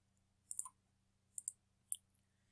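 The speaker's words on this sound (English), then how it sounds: "let's click this button right here" A mouse button gives a few crisp, close clicks in quick pairs and a single click, faint and sharp against a low steady hum, with no talking.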